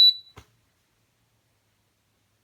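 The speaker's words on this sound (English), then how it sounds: "So huge, great big long beep when you switch it on." An Aldi Ambiano single induction hob gives one short, sharp, high electronic beep at power-on, followed by a faint click and then silence.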